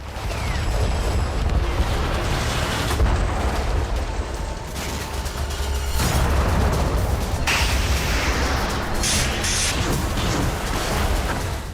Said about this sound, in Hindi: पैट्रियट से विस्फोट हुआ और लड़ाकू विमान जल गया।